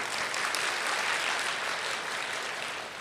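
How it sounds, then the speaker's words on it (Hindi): Applause from an audience at a spiritual discourse, a dense, steady wash of clapping lasting throughout and easing slightly at the end. "तो तालियां तो बजाओ जरा"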